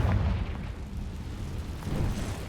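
In Hogwarts Legacy, a Confringo fire spell explodes with a dense, booming rumble that fills the whole moment, loud and close, with a fresh surge near the end.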